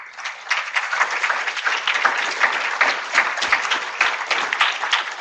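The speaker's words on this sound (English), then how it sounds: "if you could keep the clapping going" Steady audience clapping at a student poster awards ceremony, a continuous patter of many hands holding at an even level for several seconds without talk.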